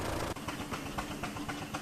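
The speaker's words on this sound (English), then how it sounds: "we set off in the Model T for the pit village" Ford Model T car engine running on a museum perimeter track, a steady close mechanical chug with a rhythmic pulsing beat, loud and continuous with no talk over it.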